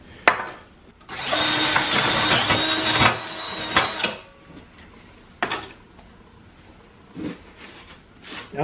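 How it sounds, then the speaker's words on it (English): A power drill bores holes through metal legs for a benchtop belt grinder stand, running loud and steady for about three seconds with a high whine, then short bursts and bangs of handling the parts in a workshop. "we got all 4 holes drilled"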